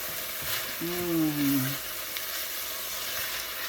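Peppers and their seeds frying in a pot for African peanut soup give a continuous close sizzle as they are stirred, with a brief hum of voice near the start and the hiss steady throughout.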